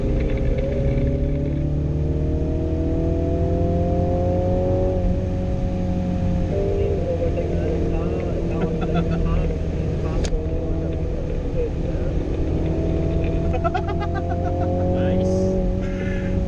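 A 2017 MINI Countryman JCW accelerates in full manual mode, its engine note climbing steadily through held gears under continuous road noise, with someone talking briefly over it.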